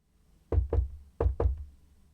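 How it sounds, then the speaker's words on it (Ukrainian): Two pairs of dull knocks on a door, close by, in a quiet room with nothing else heard. "І хто ж тоді стукає у двері?"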